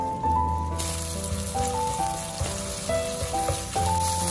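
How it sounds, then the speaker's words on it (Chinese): Minced pork sizzles as it is stir-fried in a wok with a little oil, a busy crackling hiss that holds steady, while a continuous musical tone runs underneath and no one speaks. "肉末下锅之后用铲子把它炒散"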